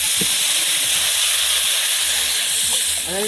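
Water poured onto onions already fried red in a pot for egg pulao, cooked outdoors in a forest, gives a loud, steady, broadband hiss of steam that fills the whole stretch, with faint voices underneath.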